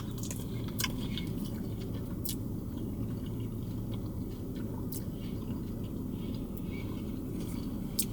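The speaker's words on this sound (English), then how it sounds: "I'm gonna try it without the rum sauce first just to see what the cake itself tastes like" Someone chewing a bite of drunken coconut cake topped with toasted coconut, soft moist mastication with faint crunches, close to the mic over a steady background hum.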